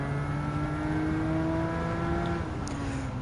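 Porsche 911 Turbo S (Type 992) racing in Gran Turismo 7, a steady loud engine drone with rising gear-whine tones, held continuously and close throughout.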